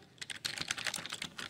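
Quick, close keystrokes type a date on a computer keyboard, a steady run of light clicks with no talk.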